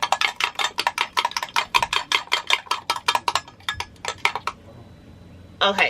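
Rapid, rhythmic clinking of a utensil against a glass container while mixing a homemade aloe vera blend, loud and close, a steady run of sharp taps that pauses near the end and then resumes briefly.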